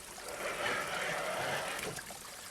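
Water trickles over rocks in a mossy creek, a steady close-up wash of splashing and gurgling that swells briefly and fades, with no talk over it.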